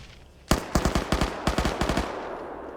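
White phosphorus artillery rounds land in a military video game, a rapid cluster of sharp, loud impacts and bursts rattling off in quick succession over about a second and a half, with no voices.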